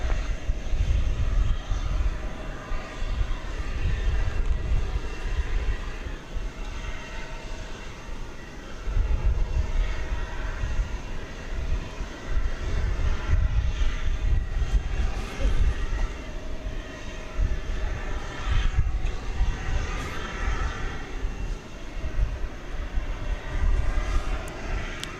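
A UPS Airbus A300 jet departs DFW airport at night, a broad roar of engines that swells and rolls in waves, heard from a distance and sustained for the whole stretch.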